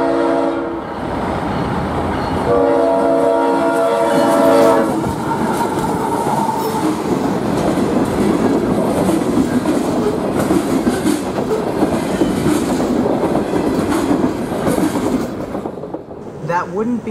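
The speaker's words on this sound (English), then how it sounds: "Here's the train rounding the curve at Plant City to head north on the Yeoman subdivision." A CSX freight train rounds a curve at Plant City, loud and close, with a horn blast early on and then a long rumble and clatter of rolling cars.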